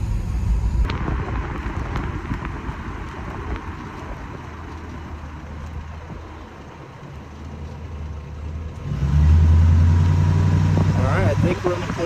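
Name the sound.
Crown Victoria car driving after brake caliper replacement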